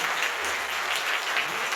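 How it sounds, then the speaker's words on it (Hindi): Steady applause from a church congregation during worship, dense clapping that continues without pause for the whole moment. "आइए खुदा के जलाल के लिए जोरदार तालियां बजाएं।"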